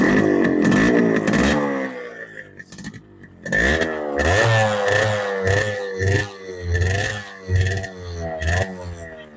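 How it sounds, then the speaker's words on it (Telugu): A Yamaha RX 100 two-stroke motorcycle revs hard through its exhaust with rising and falling engine notes, loud and close, and a voice is heard over the engine. "చూసారు కదా గైస్ మన ఎగ్జాస్ట్ సౌండ్ ఎలా ఉందో."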